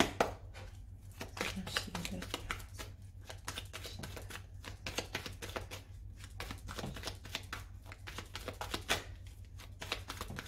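A deck of tarot cards is cut and shuffled in rapid, crisp riffling bursts, close and fairly quiet, with a faint low hum underneath and no talking.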